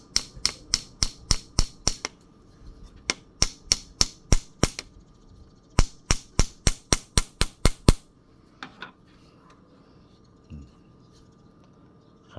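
Sharp, rapid hammer strikes in three quick bursts of about eight blows each, loud and close, followed by quieter scattered knocks.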